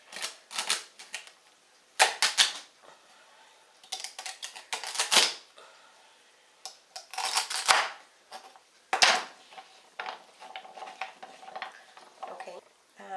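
A kitchen knife cuts vegetables, carrots among them, into big chunks for Mexican chicken soup (caldo de pollo). The chopping comes as close, sharp, rapid tapping bursts against the board, separated by short pauses.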